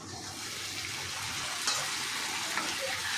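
Water poured into a pan of spiced pointed gourd curry cooked with nuts, giving a steady hissing wash of sizzle and bubbling that stays even throughout, with no voices.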